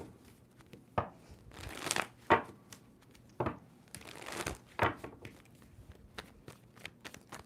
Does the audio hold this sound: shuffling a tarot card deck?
yes